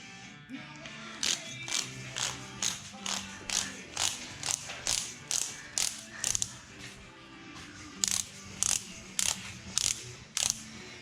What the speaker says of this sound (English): 1/2 inch torque wrench, set it to 100 foot-pounds.